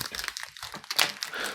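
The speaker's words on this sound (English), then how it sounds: "Sorry, the packet's crinkling a lot there." A protein bar wrapper crinkles up close, a short burst of sharp, papery rustling and crackling.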